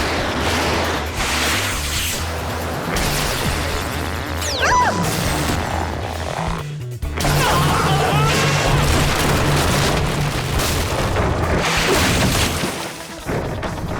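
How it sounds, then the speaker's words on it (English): A cartoon sonic boombox missile launches and explodes in an animated spy show, a dense, loud burst of booming and crashing impacts layered with music, continuing steadily for the whole stretch before a brief drop near the end. "Launch the sonic boombox missile."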